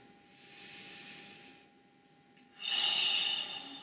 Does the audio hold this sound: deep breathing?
yes